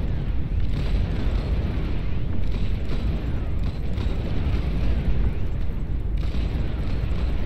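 Late-game battle in the strategy game Beyond All Reason, with massed snipers firing very rapidly amid explosions, a dense continuous roar of shots and blasts without pause.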